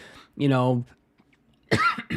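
A single sharp cough comes between two stretches of a voice, with a brief quiet pause before he carries on.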